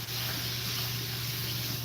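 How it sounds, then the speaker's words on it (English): Water runs steadily from a kitchen tap over a frying pan lid, a continuous close hiss with a low steady hum underneath, unbroken for the whole moment. "Wash the lid."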